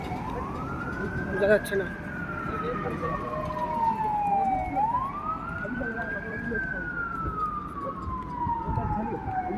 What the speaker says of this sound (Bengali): একটা অ্যাম্বুলেন্স আসছে, আসছে